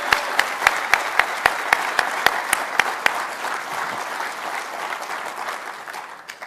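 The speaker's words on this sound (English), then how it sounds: "If you would please help me give a warm and appreciative and a well-deserved round of applause to Suzanne Healy." At a professional association meeting, sharp, evenly spaced claps ring out first, then a large audience breaks into sustained applause that gradually fades toward the end.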